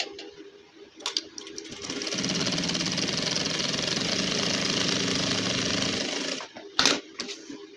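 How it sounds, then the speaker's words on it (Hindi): A sewing machine stitching a seam on a gents suit, running in one steady mechanical rattle for about four seconds, framed by brief handling clicks and knocks before and after, no speech. "यहाँ पे हमने एक फुट पैर की सिलाई लगानी है।"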